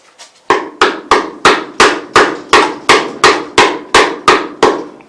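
A screwdriver taps a Classic Mini hinge panel and boxing plate about a dozen times, in a steady, even rhythm. The knocks are sharp and close, with a solid metallic ring and no voice over them.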